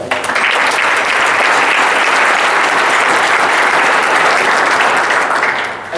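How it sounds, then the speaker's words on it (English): An audience claps steadily at a capital campaign community kickoff event, a dense, sustained round of applause that holds strong for about six seconds before tapering slightly at the end. "Let's give them a round of applause right now."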